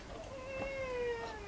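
A cat meows in a workshop where a yew billet bow is being made: one drawn-out, close meow that slowly falls in pitch, heard alone without speech.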